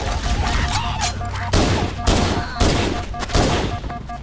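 Enemies fire on the player in Halo: Combat Evolved Anniversary co-op: loud, close, overlapping bursts of gunfire in rough waves, with faint voices in the mix.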